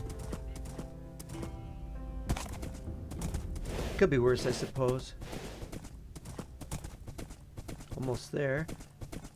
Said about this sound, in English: It is hard to traverse any area that has lots of trees in it by a horse.